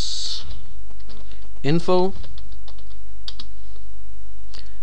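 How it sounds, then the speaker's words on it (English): Close computer keyboard typing in an Ubuntu terminal, a few scattered key clicks before and after a spoken word, with a steady low hum underneath. "you can also type in terminal"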